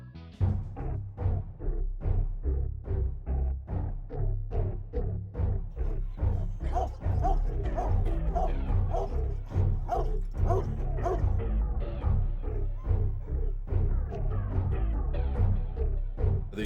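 Police K9 dogs in initial training bark repeatedly in a fast, steady rhythm, loud and close, with some yips mixed in throughout.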